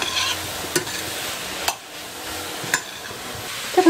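Pork tenderloin with herb pepper, basil and thyme is stirred in a frying pan, a soft sizzle broken by a few clear scraping strokes of the spoon, close up with no voices.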